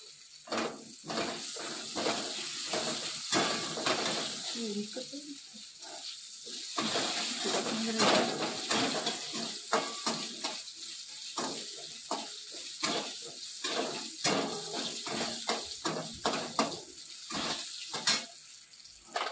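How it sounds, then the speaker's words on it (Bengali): Potatoes frying in a pan give off a steady sizzling hiss, broken by repeated clinks and scrapes of stirring and faint kitchen noise, with no talking. "আলু দিয়ে আলুটা একটু ভেজে ভেজে ভাজা করব। আলুটা ভাজবো, আলুটা ভালো করে ভাজতে হবে।"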